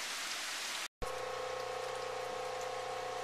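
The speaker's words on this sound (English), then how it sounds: "Right now I'd call it light rain" Light rain falling steadily during Hurricane Irene in 2011, a constant close hiss of drops on surfaces with no talk, briefly cut out near the start, with a faint tonal hum running beneath.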